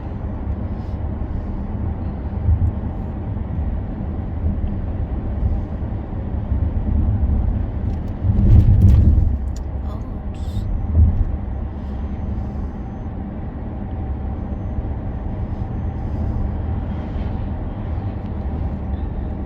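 A sedan drives toward the Yosemite mountains, a steady low road and engine rumble heard from inside the car, constant throughout with a brief louder thump midway.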